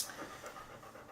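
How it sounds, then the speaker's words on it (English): A dog pants close by in a short burst of quick, rhythmic breaths, fairly quiet, with no voices over it. "Oh, here comes the other dog."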